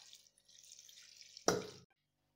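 Water is poured into a cooking pot holding jackfruit, salt, tomato and turmeric: a soft, trickling splash runs for over a second, then a brief louder gush before it stops, close and quiet.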